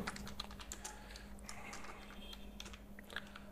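Typing Python code on a computer keyboard, a close run of light, quick key clicks in uneven bursts over a faint steady hum, with no talking.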